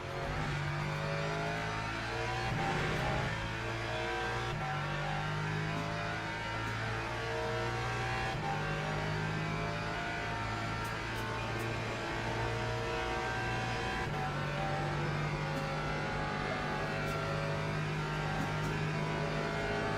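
Le Mans hypercar engines roar through continuous racing in a video game, with a loud, sustained drone that rises and falls as the cars repeatedly accelerate and shift.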